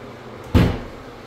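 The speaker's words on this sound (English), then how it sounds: "This cabinet door doesn't close." A cabinet door in a house that won't stay shut gives a single soft knock partway through, with a quiet room around it.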